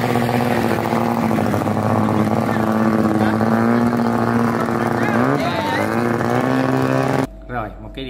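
A vỏ lãi longtail motorboat speeding along a river during a boat race event, its engine a loud steady drone with shifting pitch, accompanied by voices, before cutting off abruptly near the end.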